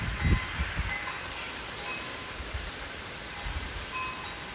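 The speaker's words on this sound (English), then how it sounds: "it's raining pretty hard" Heavy hurricane rain falls steadily as a dense, continuous hiss during Hurricane Isaias, with a few low gusty thumps near the start and no voices.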